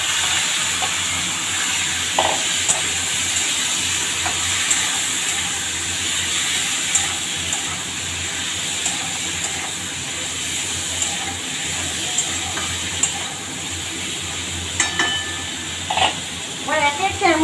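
Marinated chicken hitting hot oil in a pan for a chicken and vegetable soup, giving a steady, close hiss and sizzle that runs throughout, with occasional clinks and bumps of utensils.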